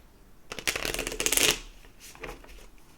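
Tarot cards riffled and shuffled by hand, a dense burst of crisp flapping clicks that builds and then cuts off, followed by a few softer card taps, close and alone.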